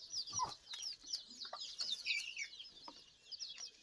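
Chickens cluck and chatter softly in a busy, overlapping flurry of short calls, close and fairly faint, with no talking.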